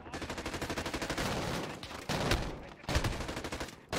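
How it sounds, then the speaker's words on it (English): Gunfire in the Warzone campaign, a close, loud string of rapid automatic shots in pulsing bursts, broken by short pauses and heavier single blasts. "Where's this guy shooting me from, man?"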